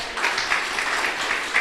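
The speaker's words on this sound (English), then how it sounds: "let's give them a bigger round of applause" An audience at a demo day event applauds in a steady, dense wash of clapping that holds at even loudness throughout the short burst.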